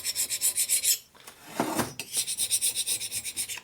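A pushing tool scrapes leftover gasket remains off the cylinder head of a 1990s Harley-Davidson Sportster 1200 in rapid, rhythmic rasping strokes, close and loud, with a brief pause and one longer scrape in the middle.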